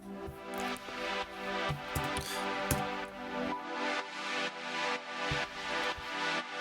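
A Diva synthesizer pad preset, Sakura AE Pad Essentials 06, for a progressive house track: a soft sustained chordal wash with gentle rhythmic swells and pulses, heard alone and fairly quiet.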